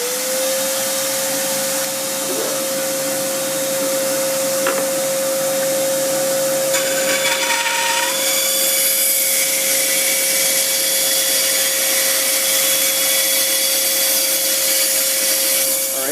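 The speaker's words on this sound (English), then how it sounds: "I'm going to make this cut at the bandsaw, first using the fence and then taking this off" A bandsaw cuts a curved shape in a wooden board for a wakeboard rack, a loud continuous whine with a steady motor hum. The blade's rasp grows harsher partway through the cut.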